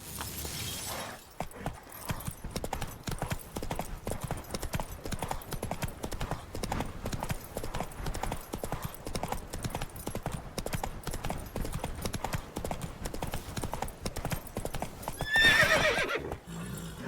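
Roach, the horse in The Witcher 3, gallops in a fast, steady run of hoofbeats, with a neigh and a burst of shattering near the end.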